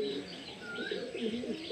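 Pigeons coo softly and repeatedly, with a few faint chirps mixed in, a close, steady cluster of warbling calls with no pauses and no talk.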